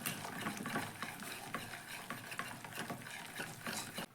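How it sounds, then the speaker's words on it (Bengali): A hand whisk beats soaked, softened semolina in a bowl for a sweet pitha, a close rhythmic scraping and sloshing that repeats quickly and steadily with no voices. "সুজিটাকে খুব ভালোভাবে একটু হ্যান্ডউইচ দিয়ে এটাকে আমি ফেটিয়ে নিব"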